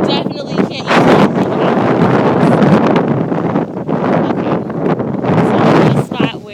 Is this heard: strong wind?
yes